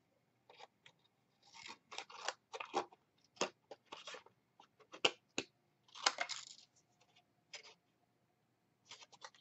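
Scissors snip through material indoors in short, crisp cutting bursts, some clustered and some isolated, close and fairly quiet against a silent background.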